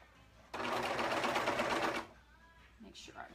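A sewing machine runs in one fast, steady burst of about a second and a half, stitching gathers on a costume dress, its rapid needle chatter loud and close before stopping, followed by faint handling sounds.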